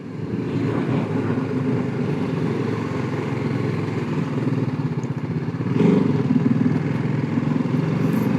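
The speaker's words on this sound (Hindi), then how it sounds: "ये फ़ायदा मोटरसाइकिल पे मैं जो है ना इन गलियों में चला सकता हूँ आराम से" A motorcycle rides steadily through narrow streets lined with typical German architecture, its engine a continuous close drone with some rattle, swelling slightly louder near the end.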